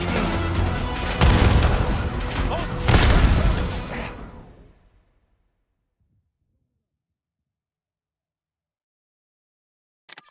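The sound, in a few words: frag grenade explosion in Black Ops 6 video game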